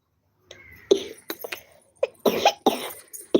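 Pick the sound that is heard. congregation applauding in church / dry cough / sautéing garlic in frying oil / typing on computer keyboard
dry cough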